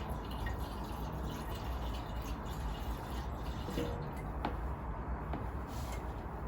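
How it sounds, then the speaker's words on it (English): Liquid poured out of a 1962 Bolens 600 fuel tank trickles in a steady low gurgle, with a few small drips and clinks standing out now and then. "we're going to carefully pour the liquid back out and put it back in the bottle"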